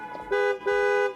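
A Peugeot 308 GT car horn honks twice in quick succession, loud, close and tonal.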